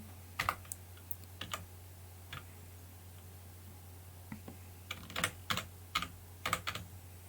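Someone types on a computer keyboard while drawing in Figma, a quiet scatter of short clicks in uneven bursts over a low steady hum, with no voice.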